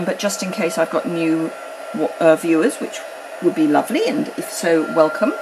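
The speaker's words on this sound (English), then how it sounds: "And then just point your heat tool at your embossing powder." A heat gun for melting embossing powder blows a steady airy whoosh under continuous close talking from a woman.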